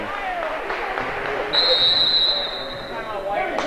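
A referee's whistle sounds one long, piercing blast at a junior varsity girls' basketball game in a gym, rising over crowd murmur and a commentator's voice.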